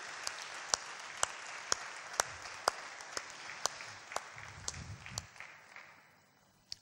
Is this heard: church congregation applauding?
yes